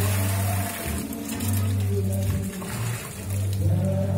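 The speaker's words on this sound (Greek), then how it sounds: "τροφοδοτούμε τους κάδους με τρεχούμενο νερό" Running water feeds the buckets of a watermill at a riverside site near the Loutra Pozar hot springs, a steady, close rush of flow under a low rumbling hum that comes and goes.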